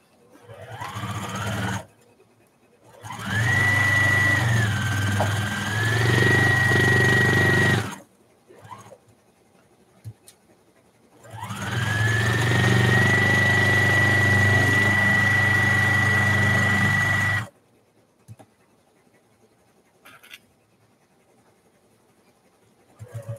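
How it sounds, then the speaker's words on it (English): A home sewing machine runs in two long bursts, loud and steady with a whining motor pitch, separated by short pauses and followed by near silence, while crafting for a fair. "I'm over here just sewing."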